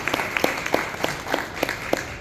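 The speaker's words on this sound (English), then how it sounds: "Round of applause, everybody." A short burst of audience applause at a panel conversation event, rapid scattered claps from a modest crowd heard fairly close for about two seconds.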